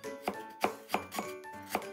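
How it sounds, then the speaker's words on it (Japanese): A knife chops an onion rhythmically on a cutting board, about six crisp, evenly spaced strikes, close and fairly quiet. "じゃあ続いて野菜切っていきます。"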